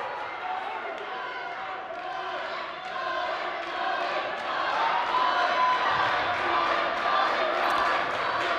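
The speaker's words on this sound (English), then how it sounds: "Manchester's cheer block shouting out, Colin, Colin, Colin" A cheer block at a high school wrestling meet chants a wrestler's name in rhythm, crowd voices swelling louder toward the end amid general gym noise.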